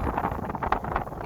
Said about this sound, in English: sorry about the wind again. It's like super windy today.